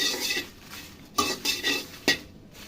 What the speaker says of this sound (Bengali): অনবরত নাড়তে থাকবো নাহলে পুড়ে যাবে